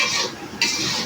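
A utensil stirs food in a pan over the heat, two brisk scraping strokes against the metal with a faint sizzle beneath, and no talking.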